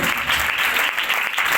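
Brief burst of congregation applause during an Urdu church sermon, dense hand clapping close and loud for a moment.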